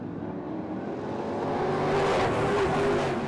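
Race cars at Lake Havasu roar close by, engines swelling under acceleration and then easing as drivers lift off the throttle, a loud, continuous mechanical rumble.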